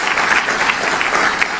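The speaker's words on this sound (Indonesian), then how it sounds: "Tepuk tangan buat Tuhan." A church congregation claps together in steady, continuous applause, loud and close, filling the whole moment without any voices standing out.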